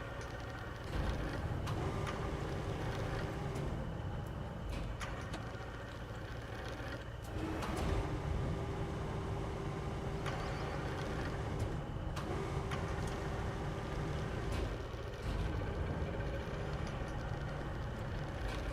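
A tractor engine in the RoadCraft game drones steadily for the whole stretch, a continuous low rumble with slight surges in pitch and load, close and unbroken.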